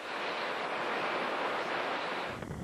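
Hurricane wind and flood water make a steady, broad roaring rush like surf and gusting wind, with microphone buffeting and no talk.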